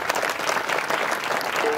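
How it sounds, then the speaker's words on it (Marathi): A kirtan audience at a Harinam Saptah gathering claps loudly for a pair of mridang players, a dense, steady burst of applause filling the whole short moment. "या जोडीसाठी एकदा जोरदार टाळी वाजवा"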